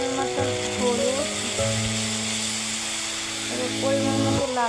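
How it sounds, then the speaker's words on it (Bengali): Onion and green chili frying with ginger and garlic paste in a pan, a steady close sizzle running under a melodic voice that carries through most of the moment. "প্রথমে আমি পেঁয়াজ কাঁচামরিচ ভেজে নিলাম"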